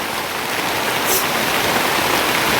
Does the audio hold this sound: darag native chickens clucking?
no